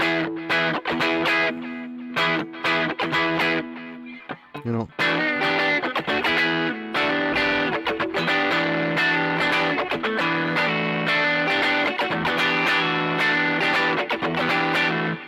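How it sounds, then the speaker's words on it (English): An electric guitar on its middle pickup position plays a quacky tone in loud, continuous chordal strumming with a short break around the middle, and a brief spoken phrase comes in. "in the middle position, you got that quack"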